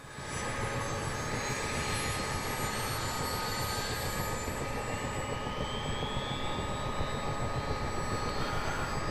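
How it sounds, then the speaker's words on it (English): Second engine of a simulated US Army Chinook helicopter in Microsoft Flight Simulator spooling up, a dense continuous turbine roar with rising whines layered on top, loud and near throughout, no voices. "engine 2 is now coming alive, so we should be able to turn off the starter"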